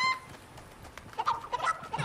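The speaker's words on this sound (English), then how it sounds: "there's the chicken." A chicken clucks in the video game Fortnite, a series of short, bright clucks in irregular bursts that grow busier toward the end, moderately faint against light game background noise.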